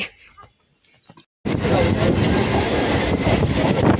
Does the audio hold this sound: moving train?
yes